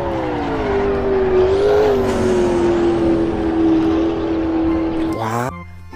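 Toy race car engine revving loudly and steadily for about five seconds, a sustained whine that climbs and holds before cutting off near the end.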